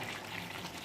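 Spice-bowl rinse water is poured into a cooking pan of hand-mixed chicken, a brief, soft liquid gush and trickle without any talk.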